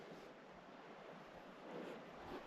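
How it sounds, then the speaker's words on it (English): Water moving through a small rock crevice on an uphill trail, heard as a faint, steady broadband rush with slight swells and a hint of wind. "you can hear the water move"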